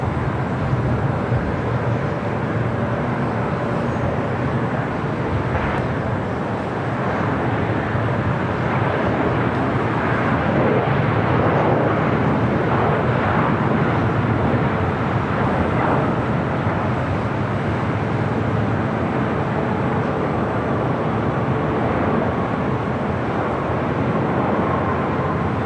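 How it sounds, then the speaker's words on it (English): American Airlines Boeing 787 Dreamliner rolling down runway 25R at LAX for takeoff, a steady broad jet roar that holds loud and even throughout, with no voices. "The American Dreamliner now rolling down 25 right, heading to Dallas, Fort Worth, Texas."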